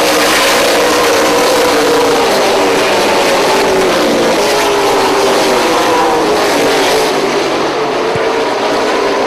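Late model stock cars race around an oval track under green flag, their engines roaring loud and continuous as a pack, with drawn-out pitch sweeps as cars pass close by.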